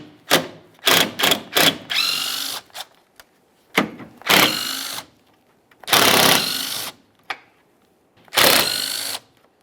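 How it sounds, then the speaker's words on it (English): Power tool driving out the 10mm upper grille mounting bolts on a 2015-2020 Ford F-150, heard as repeated loud whirring bursts, several short quick runs followed by longer ones, with pauses between. "Now we'll start removing our upper mounting hardware using a 10mm"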